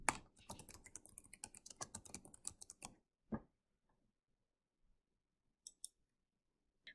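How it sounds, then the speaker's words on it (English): Quick bursts of typing on a computer keyboard fill the first three seconds with dense, close clicking; then a few isolated key taps follow across near silence. "Make sure to type in your name."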